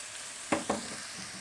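Green peas tipped into a pan of sautéed ingredients for a Turkish pea dish, giving two quick stirring scrapes over a steady, soft background sizzle with no talking.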